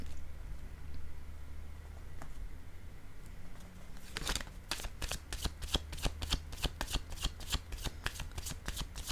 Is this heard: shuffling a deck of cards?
yes